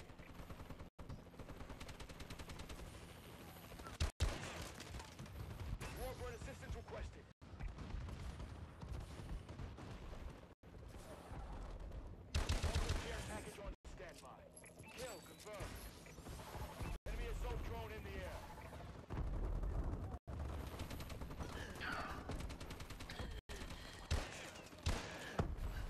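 In the video game Advanced Warfare, a friendly bombing run and gunfire produce dense, continuous bursts of shots and explosions, loud throughout, while a game voice and a player talk over the battle.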